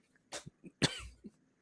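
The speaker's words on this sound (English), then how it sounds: "clear your throat" A man clears his throat into a microphone, a couple of rough, harsh bursts with short breathy pauses between them, close and fairly quiet.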